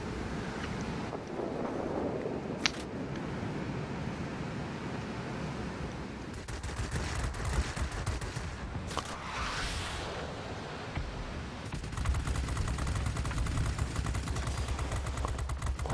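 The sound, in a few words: 20mm cannon fire, World of Warplanes video game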